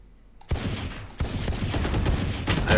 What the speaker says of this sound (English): I really can't shoot with this weapon.